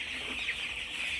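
Chickens in a poultry shed with litter on the floor make a dense, continuous clucking chatter from many birds at once, holding steady throughout.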